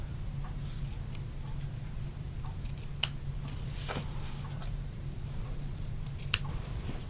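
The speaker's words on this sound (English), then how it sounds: "I'm going to trim the ends" Scissors snip the ends of a ribbon bow on a Stampin' Up! Christmas gift card holder craft. Two crisp, isolated cuts, about three seconds apart, sit over a steady low room hum.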